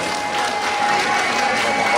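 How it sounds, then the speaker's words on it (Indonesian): Audience clapping for Ibu Dwita Lia Gunadi, a DPR RI member and guest at the opening of a Lampung craft exhibition, forming a dense, steady wash of applause that lasts throughout, with a faint voice mixed in. "Beri tepuk tangan Bu Dwita Lia."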